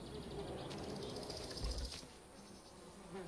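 Fly buzzing inside the video game My Summer Car, a steady low insect drone running throughout with a slightly louder swell midway, no talking over it.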